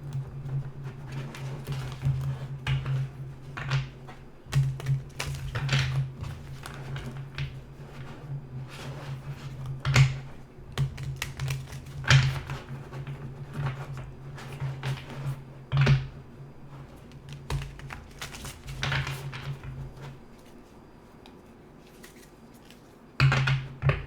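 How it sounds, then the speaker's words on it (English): A brand-new deck of cards being shuffled, sharp riffling bursts and light taps that come in repeated irregular rounds at close range, then quiet near the end, with no speech. "Just shuffling them extra good since they're new."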